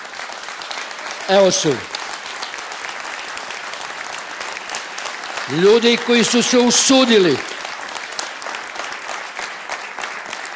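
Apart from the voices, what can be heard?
audience applause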